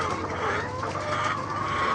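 Layer hens clucking steadily on an egg-laying chicken farm, a dense flock murmur of overlapping clucks with occasional louder calls, continuous and close without pauses.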